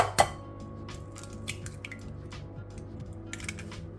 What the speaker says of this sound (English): because I'm going to crack in 1 egg